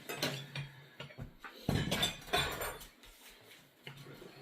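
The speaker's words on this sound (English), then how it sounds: "And I will cut into my steak and taste it." A knife and fork work through a grilled T-bone steak on a plate, with soft close clinks and scrapes of cutlery, a few louder taps in the middle, and otherwise quiet.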